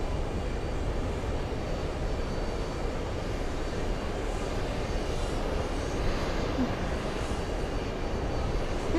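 A JetBlue airliner passes with a broad, even engine rumble and hiss, steady and moderately distant across the whole stretch, with no talking.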